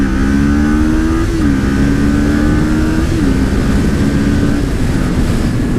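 Kawasaki Ninja 400 motorcycle accelerating hard to 70 through a couple of gear changes, its engine note climbing, dropping at each shift and climbing again, loud and close over steady wind roar, with no talking.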